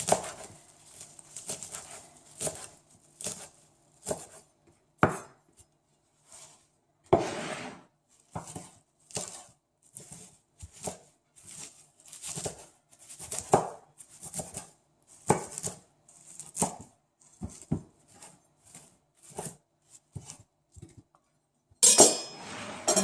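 Kale is chopped finely with a knife on a board in a brisk, regular run of crisp taps that pause briefly now and then, close and clear with no talking.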